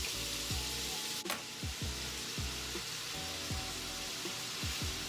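Italian sausage with black pepper sizzling steadily in a pan as it cooks down, a constant loud frying hiss with a regular pulsing rhythm underneath, no voices.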